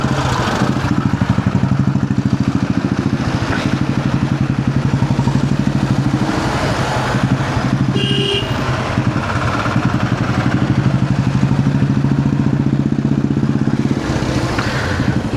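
A Kawasaki KLX 230 motorcycle being ridden, its single-cylinder engine droning steadily and loud at close range for the whole stretch, with a brief clatter partway through.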